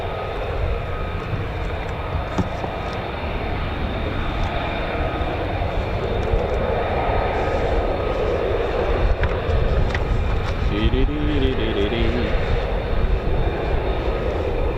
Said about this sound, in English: we can then hear the spooling F100-229s on the F-15E Strike Eagle